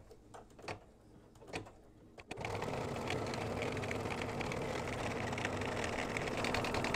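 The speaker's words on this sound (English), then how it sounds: "I have threaded the machine with a bright yellow, and now we're going to do the sealing stitch or a satin stitch around the sun." A sewing machine runs steadily and continuously while it stitches a satin stitch in bright yellow thread, starting abruptly after a couple of soft handling knocks.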